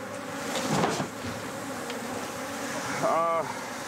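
Dangerous bees searching for their hive make a faint, continuous buzzing, with a couple of brief, louder swells as individual bees pass close by.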